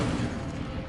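A burst of fire from the Incendio spell in Hogwarts Legacy, a short loud whooshing blast with a crackling roar that fades over under a second.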